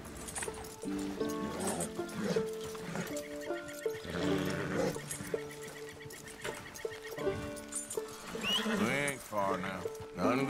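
A horse in Red Dead Redemption 2 whinnies amid the game's busy soundscape of music and effects, with someone talking over it.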